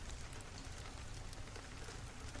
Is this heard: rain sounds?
yes